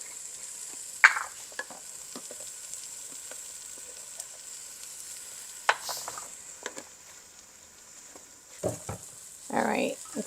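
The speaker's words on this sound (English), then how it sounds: "let's mix this around really good. Get everything cooked up." Beef for a Vietnamese spicy stew (bò kho) cooks in a pan with paprika and turmeric, heard as a quiet sizzle with scattered scrapes and louder stirring bursts near the end.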